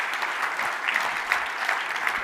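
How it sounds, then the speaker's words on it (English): Applause at a startup pitch night greets two co-founders of the company Lunaphore, a dense, steady wash of clapping from a large audience, loud and continuous throughout. "let's give a big round of applause to Diego and Atta, the co-founders."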